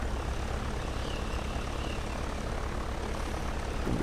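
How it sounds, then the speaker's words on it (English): A small propeller airplane taxiing on the island-hopping trip from Van Nuys to San Nicolas: a steady, continuous engine drone and propeller hum, even in loudness throughout, with no talking. "I think I'm taxiing a little too fast."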